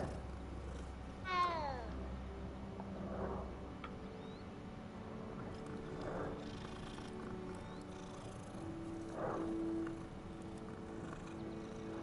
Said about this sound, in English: Beautiful kitty cat.